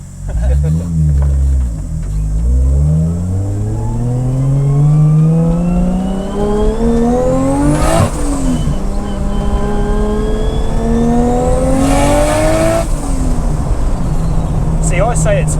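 A turbocharged 450 hp RB25DET Nissan S14 with a roll cage accelerates hard on the street, its loud engine climbing through rising revs with two sharp gear changes; people talk in the car over the engine roar.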